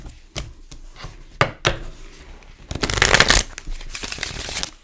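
Tarot cards are shuffled by hand, with scattered taps and slides followed by a quick riffling burst, close and fairly loud, then softer handling.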